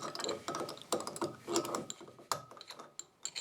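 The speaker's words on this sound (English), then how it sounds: "I'm going to change the bits now." Changing the cutting bit on a Two Trees TTC-450 500W desktop CNC router: close, irregular metallic clicks and ratcheting taps from tightening the collet, quick and uneven, with no speech.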